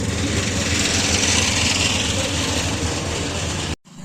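A 480 tractor engine runs at a steady, loud, even drone, close by with no voices, then cuts out abruptly near the end.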